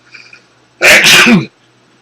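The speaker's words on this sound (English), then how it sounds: "I have to sneeze." A single loud, close sneeze bursts out after a moment of near silence.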